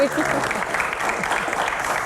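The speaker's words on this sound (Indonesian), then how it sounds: "Tepuk tangan buat Pak Ferry" Sustained audience applause for a guest speaker during a Q&A session on village cooperatives, steady and fairly loud throughout, with a brief voice or tone at the very start.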